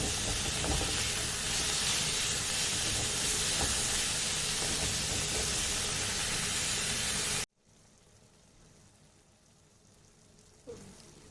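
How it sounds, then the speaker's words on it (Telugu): Green cherry tomatoes frying in oil for chutney give a loud, steady sizzle with hiss and steam, then cut off abruptly to a much quieter background. "ఇప్పుడు ఇదే ఆయిల్లో టమాటా ఇంకా మేపి ఫ్రై చేసుకోవాలి"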